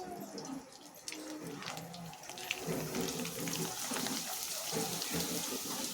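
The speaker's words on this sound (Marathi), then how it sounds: "आता आपण पापड तळून घेऊयात." Rice handi papad fry in hot oil, a continuous close sizzle and bubbling hiss that swells as the papad puffs, with faint talk in the background.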